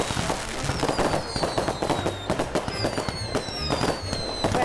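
Fireworks burst during a Canary Islands wedding celebration at night: a rapid, dense barrage of loud crackling bangs and pops, with whistling rockets streaking above, continuous and booming nearby.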